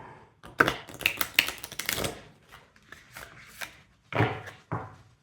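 Tarot cards being reshuffled by hand give a run of crisp riffles and flutters, then a few separate taps and snaps as the deck is squared, close and clear with no talk.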